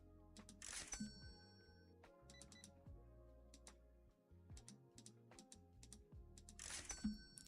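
Typing on a small computer keyboard, bursts of quick close key clicks with pauses between, a few sharper clacks standing out, fairly quiet with no talk.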